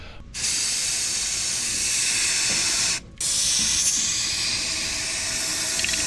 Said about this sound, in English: take this rust reformer and just sort of like fog it around inside this hole